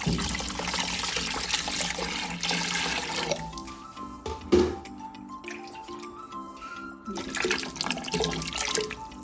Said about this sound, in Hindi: पानी ये पूरा जितना था ना उतना ही भर के हम इसमें ये जग भर के डाल देंगे